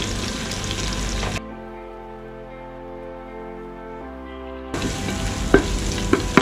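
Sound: onions frying in a pan

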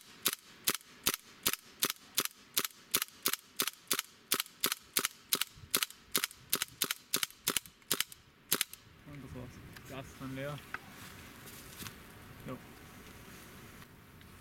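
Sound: KWA MP7 A1 airsoft gun shooting

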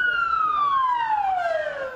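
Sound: emergency vehicle sirens at Istanbul nightclub attack scene

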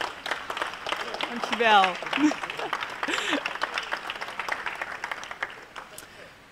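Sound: audience applause

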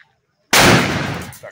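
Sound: Diwali firecracker bomb exploding

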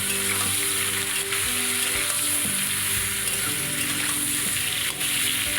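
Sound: water lilies and green chillies frying in oil

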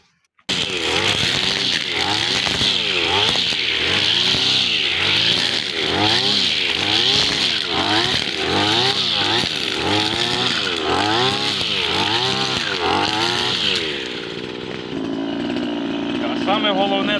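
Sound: string trimmer with line mowing weeds among potatoes

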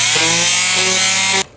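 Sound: power sander sanding plywood edges

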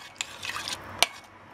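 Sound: stirring Haitian Ti Malice hot sauce in a pot

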